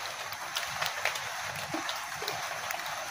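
Light rain patters steadily outdoors, a soft broadband hiss with scattered closer drips and taps, faint and continuous with no one speaking.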